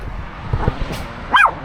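Dogs at an outdoor dog park give a few short yips and barks, with one sharper, louder bark near the end.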